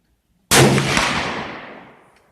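A single loud military surplus 8x57 Mauser rifle shot fired close by, a sharp crack followed by a long echoing decay, with no voices.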